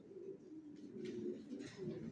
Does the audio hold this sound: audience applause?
no